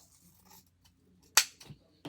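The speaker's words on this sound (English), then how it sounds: "And then I'm going to cut right here." Scissors making a single crisp snip through ribbon while a bow is shaped, with a couple of faint handling clicks around it in a quiet room.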